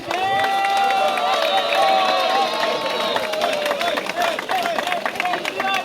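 A crowd at a swimming club's river-crossing event applauds and cheers a 7-year-old girl swimmer, with dense, close claps mixed with loud voices and calls throughout.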